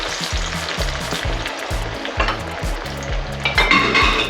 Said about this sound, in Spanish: vamos a freír los tomates.